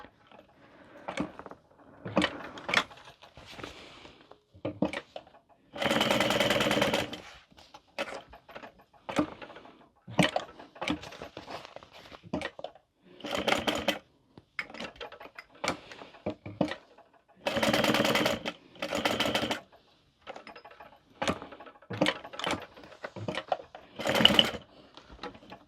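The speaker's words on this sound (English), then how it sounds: "We just have to sew the main exterior." A sewing machine stitches the fabric exterior of a car trash can in repeated bursts of rapid whirring, some short and some several seconds long, separated by quiet pauses, close and clear with no talking.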